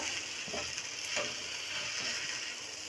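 Black chickpea flour roti cooking on a pan over low flame: a steady soft sizzling hiss continues throughout, with a few faint scrapes and taps.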